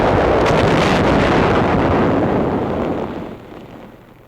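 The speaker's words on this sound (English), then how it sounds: "All firing in this demonstration is with instantaneous fuse setting." Artillery shells with instantaneous fuse settings fired during a 1945 military demonstration, heard as a sustained, loud rumbling blast that fades away over several seconds, with no voices.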